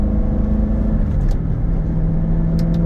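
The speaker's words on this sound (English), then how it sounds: "Car sounds awesome." Steady low engine drone from a 2016 Chevrolet Corvette Z06 3LZ while driving, a loud continuous rumble with a shifting tone as it cruises, heard from inside the car.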